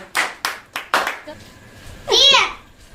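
Four sharp, separate hand claps sound close by in uneven rhythm during a guessing game, followed by a voice talking.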